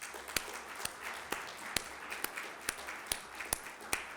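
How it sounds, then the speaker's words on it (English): Sparse, distinct claps spaced roughly every half second, sounding like a small scattered applause, fairly faint against a low background hum, at a faculty research awards celebration. "Let's give a round of applause to our colleagues"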